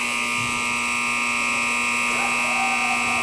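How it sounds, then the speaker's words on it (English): An end-of-game buzzer at a U13AA youth hockey arena, a loud steady electronic tone droning without a break over the ambient rink noise. "we may just hear the buzzer"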